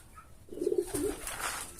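A pedigree pigeon gives a single low, throaty coo, fairly close and soft, against a faint background hiss with no talk.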